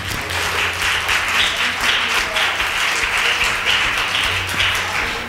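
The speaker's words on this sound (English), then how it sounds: "Clap your hands one more time." A church congregation claps hands together during a Sunday morning service, dense steady applause filling the room evenly from start to finish with no talking.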